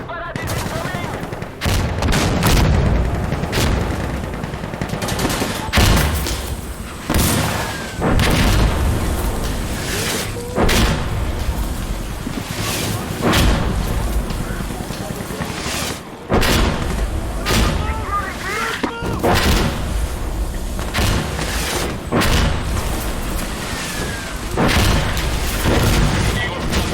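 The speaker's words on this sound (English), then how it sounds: "Rocket parade is incoming." During an Insurgency Sandstorm PvP match, loud rocket blasts boom again and again, mixed with dense gunfire that keeps the action busy and intense, while players' voices come through now and then.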